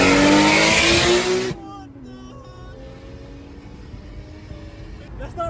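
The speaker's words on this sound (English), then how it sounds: "Race car now, yeah?" A Honda car engine revs loudly and sharply, then drops off to a lower idle while a faint voice is heard.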